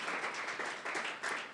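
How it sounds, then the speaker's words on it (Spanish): A church congregation claps in praise during a Spanish-language service, a brief, fairly faint patter of many hands rising and falling in uneven waves. "¿Cuántos le pueden dar un aplauso al Señor Jesucristo en esta hora?"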